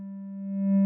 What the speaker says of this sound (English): It's almost like it sounds like a clarinet almost.